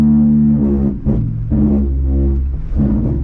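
A loud, continuous low droning hum with a tonal groan that rises and falls from wet brakes moaning on a moving 2019 Jeep Cherokee Trailhawk 4x4 off-road, heard up close.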